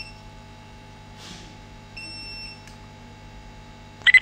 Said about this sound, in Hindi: तो ये देख सकते हैं आपके स्क्रीन पे फौरी तौर पे हमें वो अलार्म दे रहा है